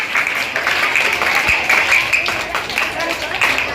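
Applause from a school audience at a Rubik's cube game during National Mathematics Day celebrations, a loud continuous wash of clapping that carries through the whole moment.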